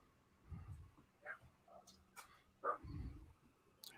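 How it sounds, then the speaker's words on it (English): A dog gives a few low, muffled barks and yips at a distance, spaced out and fairly faint, with no talking. "what is this dog barking at?"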